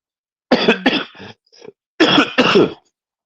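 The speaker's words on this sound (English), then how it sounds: "I'm sorry for my cough" A person coughs and clears their throat in two close bursts, loud and near, with a short pause between them.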